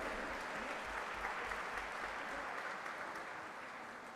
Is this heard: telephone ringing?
no